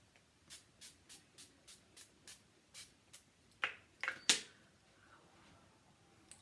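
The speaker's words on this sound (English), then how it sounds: "give myself a spray." A facial hydrating mist is spritzed in a quick series of about eight soft, evenly spaced hisses, followed by a few sharper, louder handling clicks and rustles, close and quiet with no talking.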